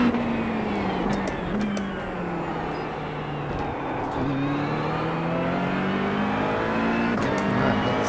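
A McLaren 720S GT3 race car engine in iRacing on The Bend GT Circuit drones and revs up and down through gear changes, steady and close, with brief shift blips and no voices.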